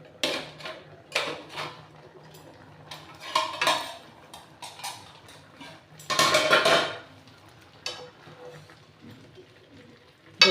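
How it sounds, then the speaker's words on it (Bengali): Metal lid lifted off a cooking pot of raw mango for Kashmiri pickle on a low gas flame: several sharp clanks and scraping rattles in separate bursts, with one longer loud clatter, against a quiet kitchen background. "দেখুন এরপর আমি ঢাকাটা খুলছি"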